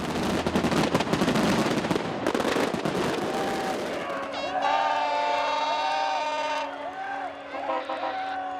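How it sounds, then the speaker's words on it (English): Fireworks at a Midsummer bonfire celebration in Norway crackle and pop in dense rapid bursts for several seconds, then give way to a sustained tonal, wavering sound. "It's a beautiful bonfire, fireworks"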